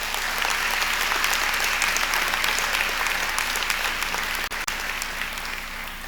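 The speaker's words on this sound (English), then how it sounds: "Please give them a round of applause" Loud, sustained applause fills a hall at a fall matriculation convocation as the audience honors university cadets, a thick, continuous roar of clapping hands with a brief dip near the end.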